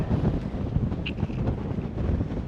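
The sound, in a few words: strong wind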